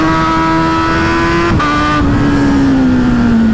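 A Kawasaki Z900 motorcycle engine on a ride, running loud and close with a steady buzzing note that shifts pitch briefly before settling into a slowly falling drone.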